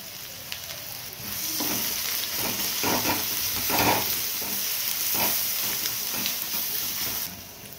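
Ginger-garlic paste hits a hot pan of oil with cumin seeds while cooking ragda, giving a loud, steady sizzle and crackle that runs the whole time with brief stirring scrapes.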